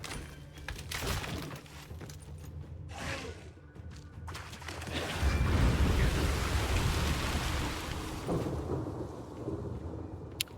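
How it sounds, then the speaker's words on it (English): Torrential rain and rolling thunder in the video game Thronebreaker: The Witcher Tales, a steady broadband downpour that swells louder midway with deep rumbling beneath, with no voices. "Torrential rain."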